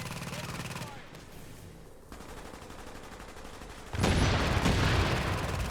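In The Division, a turret fires rapid automatic bursts during a Times Square firefight, sustained gunfire that swells louder toward the end amid other game sounds.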